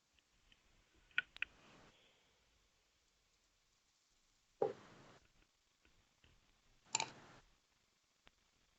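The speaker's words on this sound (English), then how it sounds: "There was someone typing, but it looks like they've stopped typing." A few sparse bursts of clicky keyboard typing, separated by long quiet gaps, close and soft.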